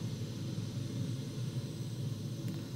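A Fouga jet powered by a Marboré 2 engine, heard in flight as a steady, low, broadband drone that holds constant throughout without any talking.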